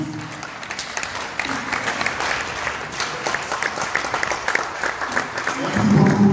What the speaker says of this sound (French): tout le monde s'est levé en acclamant sa majesté